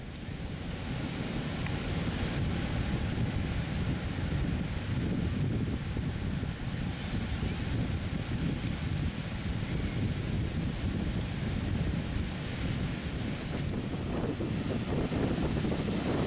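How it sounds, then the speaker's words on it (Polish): Pacific Ocean surf rolls steadily onto La Barqueta beach, a continuous roar of breaking waves mixed with wind buffeting the microphone, with no voices. "Fale Pacyfiku."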